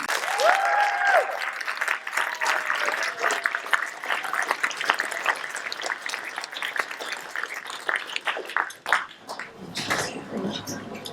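An audience at a film Q&A applauds steadily, a dense wash of many hands clapping that continues before gradually thinning out toward the end.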